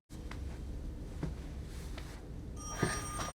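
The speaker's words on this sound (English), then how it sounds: "Yep, time to pick up the phone." Telephone ringing in the horror film Longlegs, a trilling bell ring building over a low murky room tone, with a sharper ring burst near the end, moderately close and without speech.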